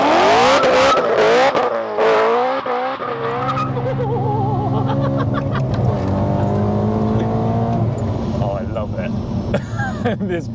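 A 680 bhp supercharged manual BMW E92 M3 revving hard, with sharp pitch sweeps through the gears, a hiss of the blow-off valve and a continuous loud engine roar heard close up, with people talking over it.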